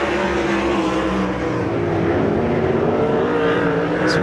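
Sprint cars roar around a dirt track in a USCS Outlaw Thunder race, a loud, sustained engine drone with pitch sweeping up and down as the cars pass.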